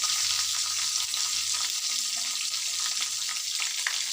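Two green chilies dropped into hot oil in a home kitchen, giving a continuous bright frying sizzle with crackling, steady and close throughout.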